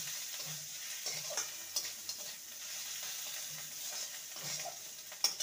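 Grated ginger is stirred in hot oil, giving a soft, low sizzle broken by quiet scrapes and taps of a spoon against the pan.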